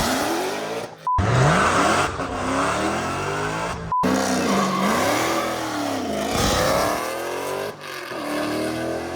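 A manual Dodge Demon launching hard in cold conditions, its engine roaring loud and close through rising revs and gear changes while the rear tires spin and squeal, with brief cuts in the sound.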